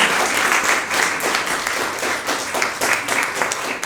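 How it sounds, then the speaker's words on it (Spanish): Worshippers in a church clap for God during a sermon, the applause pulsing in uneven waves of many hands, loud and close, with no speech on top. "denle un aplauso a Dios"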